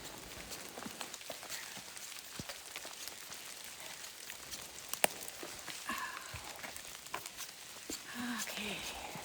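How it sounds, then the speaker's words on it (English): Steady rain patters on a mountain trail at about 5,000 feet in the Great Smoky Mountains, a soft continuous hiss with scattered drops, while a hiker's voice murmurs faintly underneath. "It's gotta love the rain."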